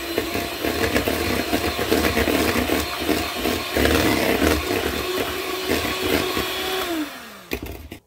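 Electric mixer whirring steadily as it blends sugar and vanilla flavoring for a pumpkin roll, a loud continuous motor drone close by that winds down and stops near the end, with a final clunk.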